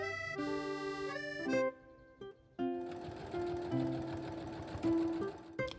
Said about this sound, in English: Sew the pocket first onto the top.